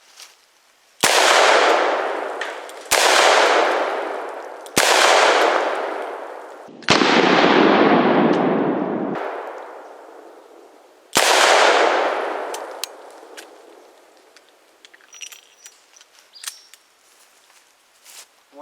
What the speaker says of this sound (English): Take a few more shots at it.